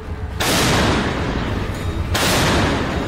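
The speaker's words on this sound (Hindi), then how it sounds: "रूस के ठिकानों से आग के गोले बरसाती ये है जर्मनी की सबसे भरोसेमंद आर्टिलरी।" A German PzH 2000 self-propelled howitzer fires on the Ukraine front, two heavy, close booms about two seconds apart, each followed by a rolling, rumbling blast that fills the air.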